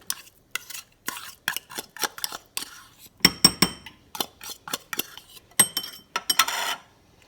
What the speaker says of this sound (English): so we'll mix up our tuna. I'm going to take that whole can and put in here.